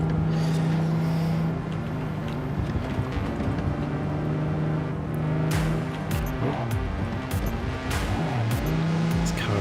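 A car drives in the video game Cyberpunk 2077, its engine droning and revving steadily throughout with shifting pitch and occasional sharp clunks and impacts, close and loud with no talk.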